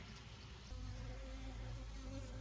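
Honey bees buzz steadily at an open beehive, with drones among them. The hum is a continuous, fairly close drone with layered harmonic tones and no speech.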